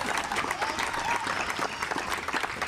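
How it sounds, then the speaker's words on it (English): Contractors clap at an outdoor groundbreaking ceremony, a dense burst of applause from a small group, close and continuous throughout. "There they are clapping for themselves."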